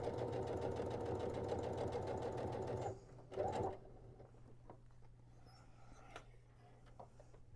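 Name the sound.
sewing machine stitching a fabric tote bag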